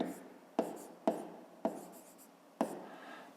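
Pen writing numbers on paper close up, five quick taps and scratches with brief pauses between, quiet and without talk.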